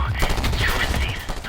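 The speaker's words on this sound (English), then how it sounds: "And there's a stripper shooting at me." Enemy gunfire in Just Cause 2 crackles in a dense, rapid burst of shots, loud and close, with a voice talking briefly over the din.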